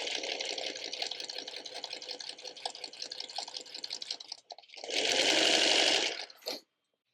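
A sewing machine stitches quilt block fabric for a Sawtooth Star block in a steady close whir, pauses briefly, then runs in a louder fast burst before stopping.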